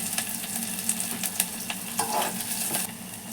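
Onions frying in a pan until golden: a close, continuous sizzle with crackling bursts and occasional stirring scrapes, no voices.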